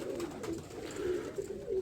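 A pigeon coos close by, its low throaty calls repeating in a steady rhythm.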